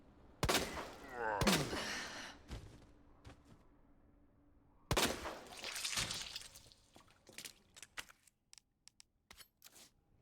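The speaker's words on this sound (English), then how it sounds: "I threw the flash grenade when I hit the knife button" A flash grenade in Resident Evil 2 goes off as two sharp bangs with crackling tails, followed by a quieter stretch and a second burst of loud impacts, then scattered small clicks.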